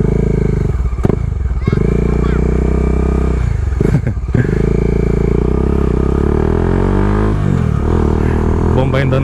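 A Bajaj Dominar 400 motorcycle engine runs steadily and loudly nearby, revving up in bursts with some clattering, voices briefly heard under it.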